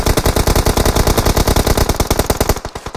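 Rapid automatic gunfire in the mobile shooter PUBG Mobile, a dense, loud, evenly spaced stream of shots lasting about two and a half seconds before tapering off.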